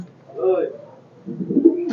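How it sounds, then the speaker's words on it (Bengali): A female Kamagar pigeon coos softly in two low murmuring phrases, one early and a longer one near the end, heard close up. "এটা হচ্ছে একটা কামাগারের মাদি দেখেন অসাধারণ একটা মাদি কবুতর"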